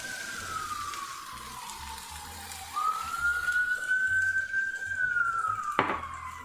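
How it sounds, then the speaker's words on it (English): A police siren wails at a distance, its tone falling and then rising again in a long sweep over steady background noise and running water, fairly faint and with no talking. "Siren."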